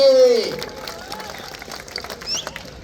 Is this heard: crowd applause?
yes